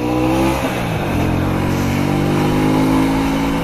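A Honda Shadow 125 motorcycle engine accelerates uphill, loud and close, its pitch climbing steadily after a brief dip near the start.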